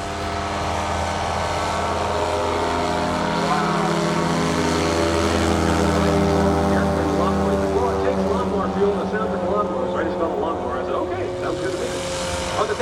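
A Rans S7S light airplane at a STOL competition at AirVenture 2018 drones steadily and loudly with its propeller engine, a continuous buzzing hum that shifts slightly in pitch as it runs.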